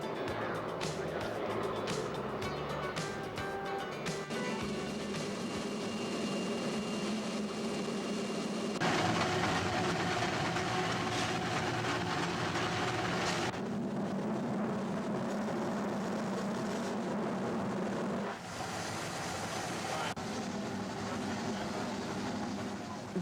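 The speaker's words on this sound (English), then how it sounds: "it's the sights and sounds of the steam locomotives that steal the show" Georgetown Loop Railroad steam locomotive train running, a continuous loud rumble of the engine and rolling cars with shifting chuffing and mechanical noise that changes character in sections.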